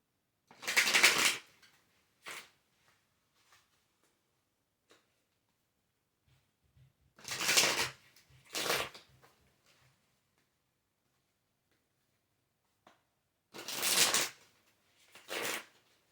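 Oracle cards shuffled by hand in three separate bursts of crisp riffling flutter, each followed by a short second flurry, with near silence between them.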